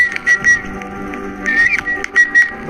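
Short, clear whistled notes in a Roblox Fatal Floor horror co-op game, heard in two bursts of several quick tones each, fairly loud with no talk over them.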